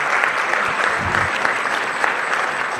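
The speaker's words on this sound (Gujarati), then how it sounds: "એમને તાળીઓના ગડગડાટથી વધાવી લઈએ." Applause from a crowd welcoming a university Vice Chancellor at a panel discussion on waste management: a loud, dense, steady wash of many hands clapping at once, with no voices.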